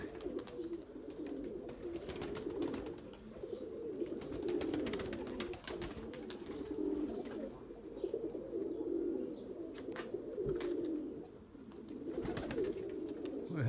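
Erzurum white pigeons cooing close by in a loft, a steady run of low soft coos with occasional wing flutters and small knocks, fairly loud and continuous.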